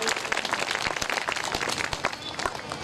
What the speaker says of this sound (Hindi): जोरदार तालियां आप सभी लोग।